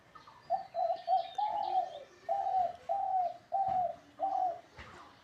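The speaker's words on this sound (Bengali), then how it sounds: "আপনারা ঘুঘুর ডাক শুনতে পারলেন" A dove coos in a steady series of soft, low, rounded notes, about eight in a row with short gaps, clear and fairly close against a quiet outdoor background with faint chirps.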